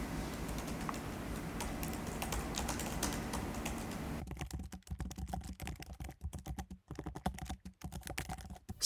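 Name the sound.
typing on MacBook Air M2 Magic Keyboard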